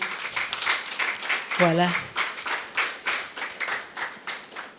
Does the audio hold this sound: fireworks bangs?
no